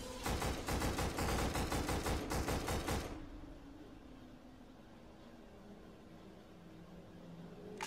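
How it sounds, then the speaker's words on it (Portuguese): Rapid gunfire exchange in the PS2 shooter Black: loud, dense bursts of automatic fire for about three seconds, then it cuts off, leaving a low rumbling ambience. "Vamos ficar trocando tiro com esses caras aqui."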